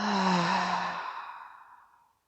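A long, audible exhale at the end of a morning yoga stretch, close and clear, slowly fading out over about two seconds with nothing else heard.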